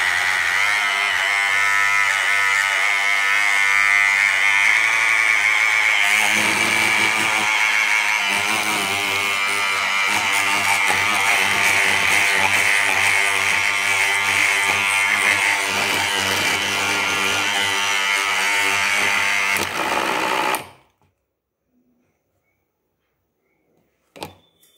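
Kitchen mixer grinding piyush ingredients with cardamom powder, a loud steady whirring drone for about twenty seconds that cuts off abruptly, followed by near silence and a small knock.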